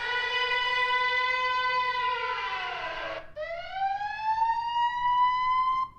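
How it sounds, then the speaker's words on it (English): An AI-generated war siren wails continuously, a loud rising and falling tone with rich harmonics that sweeps down, breaks briefly and climbs again, with no other sounds. "Now I want bombs dropping and a siren. So let's call it a war siren."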